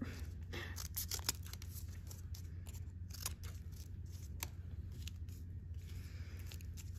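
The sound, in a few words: scissors cutting paper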